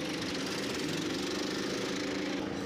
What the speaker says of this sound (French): les officiels qui sont en train de démarrer les cartes